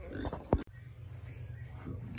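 A couple of short, close pig grunts and squeals on a homestead, followed by a low steady rumble of background noise.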